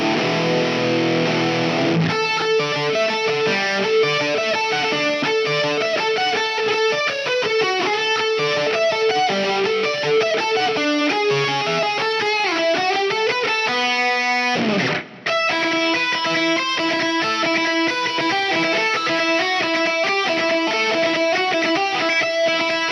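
Distorted electric guitar through a Line 6 Helix Horizon drive, dialed for a Gallien-Krueger style tone, plays a continuous riff-driven melodic passage with delay and reverb and one brief dropout near the end.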